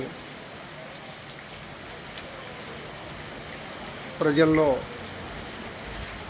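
Steady, even hiss of moderate to heavy rain falling throughout in Banaganapalli under overcast skies, with a brief voice speaking near the end.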